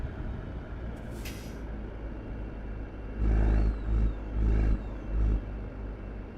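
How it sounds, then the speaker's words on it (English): A Peterbilt 389 in American Truck Simulator lets out several loud, close air-brake hisses and squeaks in a row, over a low idling engine rumble, after a faint earlier hiss. "Yeah, the brakes on them a squeak."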